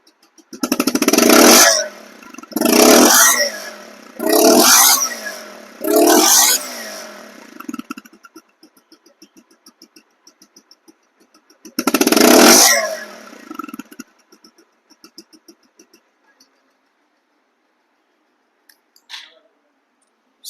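A 2024/25 Bajaj Pulsar One Disk ABS motorcycle engine is revved in five loud, separate bursts, four in quick succession and then one more after a pause, with quiet idle gaps between them.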